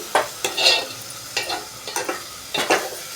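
Ridge gourd and dried shrimp fry in a pan, with a few distinct scraping stirs over a low, constant sizzle. The sound is close and moderately loud, with no voices.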